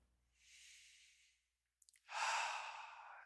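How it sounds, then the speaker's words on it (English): Deep breathing during a guided meditation: a soft, airy breath in followed by a pause, then a louder, fuller exhale close to the microphone. "Take a nice deep breath."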